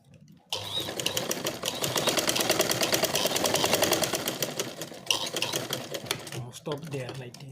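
A sewing machine stitches the rope-drawstring waistband of a pair of joggers, giving a fast, steady mechanical rattle that runs for about four seconds. The machine pauses briefly, then resumes in shorter bursts.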